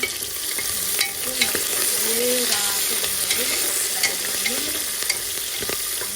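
Onion and garlic sizzle steadily in a hot pan while being stirred, with occasional scraping and a brief spoken word.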